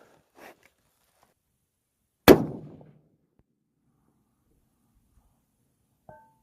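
A rifle bullet strikes a steel target plate at long range, a single sharp metallic clang that rings briefly and fades, with a faint distant report beforehand and otherwise near silence.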